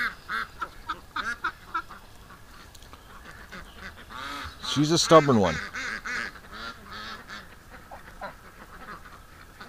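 A flock of farm ducks quacks and honks repeatedly outdoors on a mild day, sometimes in busy bursts. A person speaks briefly over the birds.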